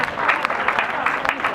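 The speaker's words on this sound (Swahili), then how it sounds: "Situpe makofi mjomba jamani" Applause from a crowd at a traditional Kuhaswa wedding, a dense, steady patter of many hands clapping together for over a second with a busy, crowded texture throughout.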